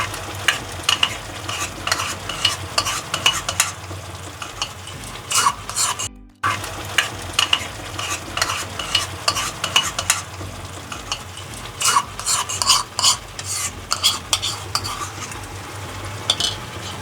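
Chicken curry with whisked yogurt sautéed in a pan over a medium flame: continuous sizzling under a steady rhythm of a spatula scraping and stirring, close and loud, with a brief pause midway.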